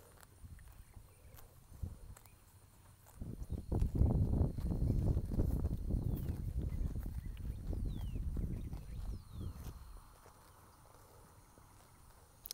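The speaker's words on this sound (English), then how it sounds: "I also just love the sound of a grazing horse." A horse grazing outdoors, its steady tearing and chewing of grass up close, a soft irregular crunching over quiet wind, with no voices.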